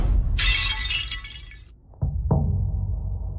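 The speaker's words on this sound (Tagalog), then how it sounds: "Nabasag mo! Isang bote lang naman yan." A glass bottle of rare 50-year-old liquor shatters in a loud burst of breaking glass, followed by a couple of dull thuds and low rumbling.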